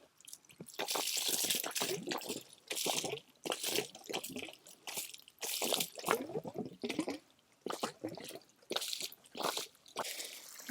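Water from a hose pouring and splashing onto a garden bed for flood irrigation, coming in irregular gushing bursts separated by short quieter gaps, fairly close.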